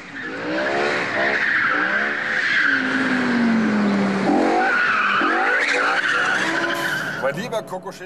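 An MF5 sports car's engine roars and climbs through the gears on a race track lap as tires squeal hard through corners, loud and close, with the pitch rising and dropping throughout.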